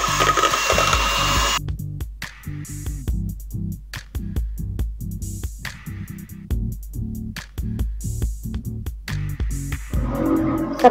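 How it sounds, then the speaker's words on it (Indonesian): An electric mixer stirs buttermilk into cheesecake batter with an irregular chopping, knocking whir, pulsing unevenly as the beaters hit the bowl, fairly loud and close, with no talk over it. "Kita bisa aduk lagi dengan mixer sebentar."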